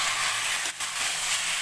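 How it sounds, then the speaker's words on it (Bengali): Salt-marinated chicken fries in an uncovered pan while being stirred, a loud steady sizzle that briefly dips as the pieces are turned. "দেখো আমার চিকেনটা কিছুটা ভাজা হয়ে গেছে, ভালোভাবে কষিয়ে নিচ্ছি,"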